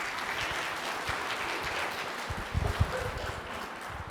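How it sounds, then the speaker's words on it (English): A modest audience gives a professor a quiet, distant round of applause after her talk on social justice, with soft, even clapping and a few louder thumps near the end. "Please, another round of applause for Dr. Raptosh."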